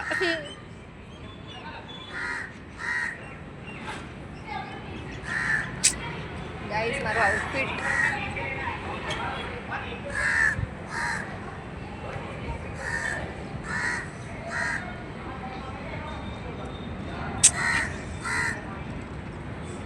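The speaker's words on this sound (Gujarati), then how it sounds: "આ કાગડો એકદમ બખારો કરે" Crows caw repeatedly by a riverfront in Ahmedabad, sharp calls recurring at intervals through the scene while someone talks over them nearby.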